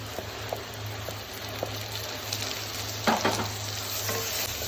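Onions, ginger, garlic, green chillies and whole spices fry steadily in hot oil for a beef dish, a constant close sizzle with light stirring clicks and a louder scrape just past the three-second mark.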